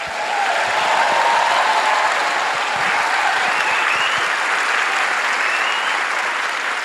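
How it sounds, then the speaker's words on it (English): A large audience gives loud, sustained applause as the Les Misérables cast and director Tom Hooper are welcomed to the stage. The dense clapping holds steady for about seven seconds, with no voices on top. "Please give a huge, rapturous applause as we welcome to the stage Samantha Barks, Redmayne, Amanda Seyfried, Anne Hathaway, Hugh Jackman and Tom Hooper."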